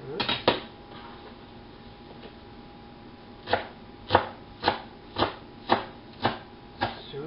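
Knife chopping dill, onion and fresh herbs on a board: a couple of quick cuts, a pause, then a run of about eight evenly spaced crisp chops, close and fairly quiet.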